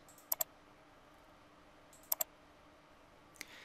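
Quiet computer mouse clicks come in three spaced bursts while setting weekly venue hours in scheduling software, the first two bursts each a crisp double click, the last a single faint click, all close against a low background hum.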